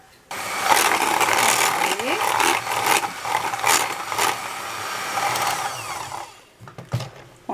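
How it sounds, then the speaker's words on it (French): An electric mixer whisking creamed butter, sugar and apple compote in a bowl, giving a loud, continuous whirring rattle close by that cuts off near the end. "Je vais introduire la compote de pommes et fouetter encore."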